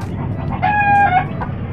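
A hen clucks close by, and then a rooster gives a single drawn-out crow, loud and near, over a low rumbling background on a small farm.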